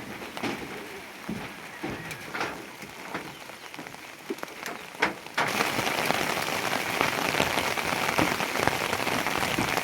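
Steady rain patters on a surface with scattered drops, then grows into a heavier, louder downpour that holds for the rest of the clip.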